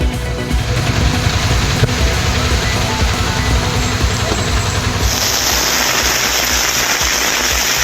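Summer rain falls across Theni in Tamil Nadu as a steady, loud broadband hiss of drops on surfaces, with a faint low rumble of passing traffic mixed in.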